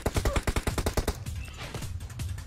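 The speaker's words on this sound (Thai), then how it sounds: "ใครปืนลั่นมีคนปืนลั่น" Rapid automatic gunfire in the PUBG Mobile video game, a fast burst of sharp shots for about a second, then more scattered shots trailing off under a noisy background.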